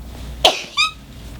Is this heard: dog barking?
no